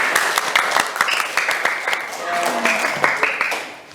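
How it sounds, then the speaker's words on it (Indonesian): Classroom applause for a student group after their presentation, a few seconds of scattered hand clapping with some voices mixed in, moderately loud and fairly steady throughout. "Tepuk tangan untuk kelompok 1."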